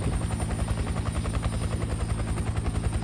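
A helicopter's steady rotor thump and engine drone, loud and close, pulsing rapidly and continuously with no voices.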